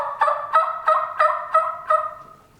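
A series of six raspy, rhythmic yelps like a turkey hen, evenly spaced and close, made indoors with a Quaker Boy friction call.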